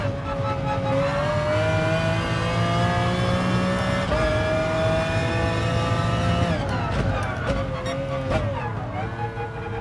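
A new Toyota Supra in Gran Turismo Sport revs hard and holds a high, steady engine whine, then drops pitch sharply through quick gear shifts near the end, loud and up close.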